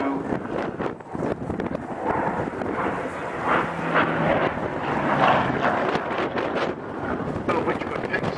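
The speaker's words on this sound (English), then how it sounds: "Very windy" Strong gusting wind buffeting the microphone outdoors around a Sea Hurricane and Lysander aircraft on the ground, a continuous loud roaring rumble with surging gusts and faint background voices.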